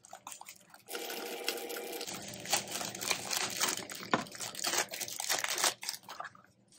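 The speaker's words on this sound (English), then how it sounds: "this is the crunchy noodle paper you get at a Chinese restaurant" Crinkly packing paper from a Nerf Fortnite Flare box rustles and crunches close up in busy, uneven bursts for several seconds after a quiet start, with no talking.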